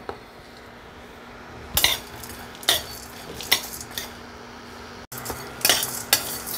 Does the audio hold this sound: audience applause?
no